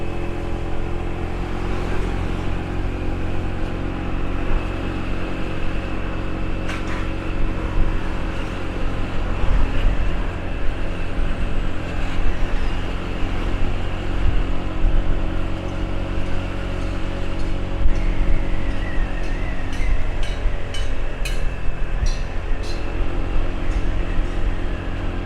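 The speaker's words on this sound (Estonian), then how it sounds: "Nagu näete, siis liiklus on üsna tihe." Dense road traffic heard from inside a moving vehicle on the drive from Rawai to central Phuket, Thailand: a continuous engine drone and road rumble with passing motorbikes and cars swelling and fading nearby, no talk.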